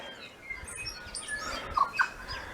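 Birds call along a shady forest track in Zealandia, with brief high chirps and tweets scattered through soft ambient background and two sharper calls near the end.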